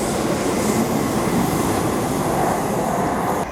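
A Royal Mail train in England's Lake District rumbles steadily past at close range, a continuous heavy rolling noise with faint wheel clatter, no voices.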